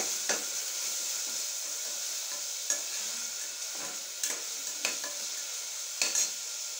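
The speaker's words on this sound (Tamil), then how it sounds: "இஞ்சி பூண்டு பேஸ்ட்டு போட்டு கொஞ்சம் வதங்கினதுக்கப்புறம் நம்ம காய்கறியை போட்டுரும்." Ginger garlic paste sizzling in a pan during home cooking, a steady hissing fry heard close up with occasional sharp clinks of a spatula against the pan and no talking.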